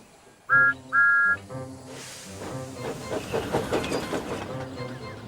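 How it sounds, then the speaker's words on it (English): Toy steam engine from a children's railway story gives two loud, sustained whistle blasts, then rolls along the track with a busy, clattering, hissing chug under music-like tones. "He whistled merrily as he rolled along the new branch line."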